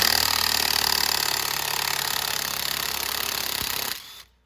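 Impact gun rattling hard against the clutch bolt of a Venom x22GT 250cc automatic motorcycle, a loud continuous hammering burst lasting about four seconds before cutting off abruptly.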